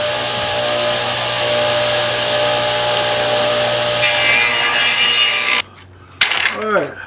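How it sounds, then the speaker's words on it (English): A table saw cuts wooden slats to one-inch strips: a loud steady whining drone that roughens as the blade bites the wood, then cuts off abruptly before a brief pause and a voice. "I got my table saw right here. I got to take and get these slats cut all at 1 inch."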